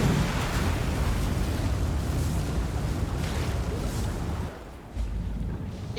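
Dense, continuous roar of explosions from the video game Path of Exile, a flame-based build blasting nonstop, with rumbling bursts layered into a steady wall of noise that briefly dips near the end.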